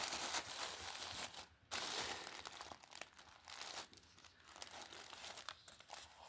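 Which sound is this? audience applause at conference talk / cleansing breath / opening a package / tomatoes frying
opening a package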